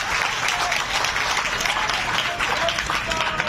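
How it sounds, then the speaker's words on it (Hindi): An audience claps loudly and steadily, a thick continuous wash of hands that holds without a break from start to end. "और मैंने कह दिया और आपने ताली बजा दी"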